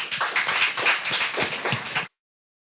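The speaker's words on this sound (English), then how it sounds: "A clap for candidate Hernan" An audience claps for a school debate candidate, a dense, steady burst of applause lasting about two seconds before cutting off abruptly into silence.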